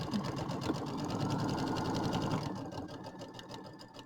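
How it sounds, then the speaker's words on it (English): A sewing machine stitches steadily back over an overlap in fabric while a bench pillow is assembled, its fast even whir running loud and close throughout before easing slightly near the end. "These machines sew pretty straight."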